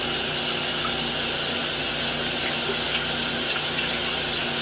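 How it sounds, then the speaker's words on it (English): A kitchen tap runs in a steady, unbroken rush while hands are washed before making pretzel dough, a continuous close splash with no pauses. "Let's go ahead and wash our hands."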